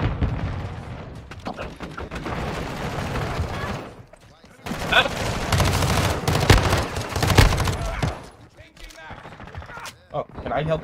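Gunfire in Modern Warfare 2 multiplayer, with rapid bursts of shots and sharp cracks clustered in dense volleys, loud and close, broken by brief pauses.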